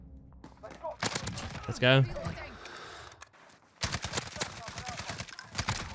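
Bursts of FAMAS rifle hip fire in a first-person shooter, rapid automatic volleys in two stretches with a short pause between, loud and close, with a player's voice talking briefly over the shooting.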